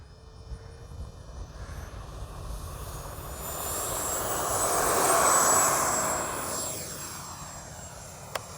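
A Freewing F-22 70mm electric ducted-fan RC jet takes off into a light headwind, its high-pitched whine building to a loud peak as it passes close, then fading into the distance.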